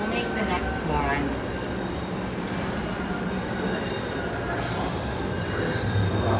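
A subway train arrives at Park Street MBTA station in Boston with a continuous rumbling roar and faint wheel squeal. A voice speaks over the platform noise.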